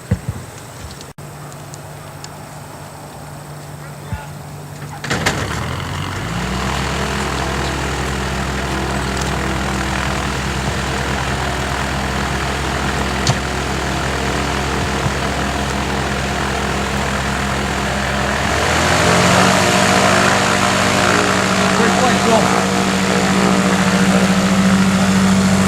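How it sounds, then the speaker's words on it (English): A propeller airplane taxis on runway 32, its engine droning steadily and close by. The engine note jumps up about a fifth of the way in, then swells louder and rises again near the end. "This is runway 32. Phil's going to taxi to the other end."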